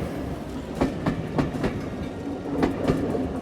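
Train sound effect in an audio drama, a steady rolling rumble of a moving train with a regular clickety-clack of wheels over rail joints, close and fairly loud, with no voices.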